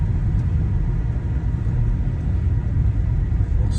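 A car cruises along a snow-covered highway during a New York snowstorm, a steady low road rumble and engine drone heard up close inside the cabin, continuous and even throughout.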